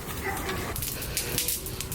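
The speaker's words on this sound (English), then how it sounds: "Why are you crying, silly dog?" A dog whimpering and crying in short, high, repeated whines close by, over a steady background hum.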